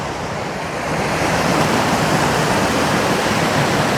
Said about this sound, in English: It's warm, so the water's moving pretty good.